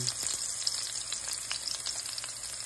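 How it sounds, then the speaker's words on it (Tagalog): Garlic and onion sautéing for Kapampangan corn soup (suam na mais), a steady close sizzle in hot oil with light clicks of stirring, no voices. "Igisama na natin ang bawang sibuyas."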